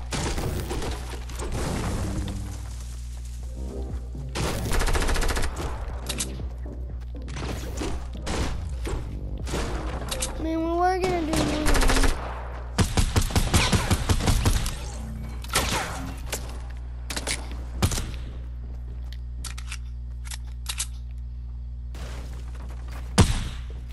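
Purple-tier guns firing in a video game: scattered gunshots and impact crashes, some in quick clusters and others isolated, loud bursts over a steady low hum, with quieter gaps between volleys and a warbling sound effect midway.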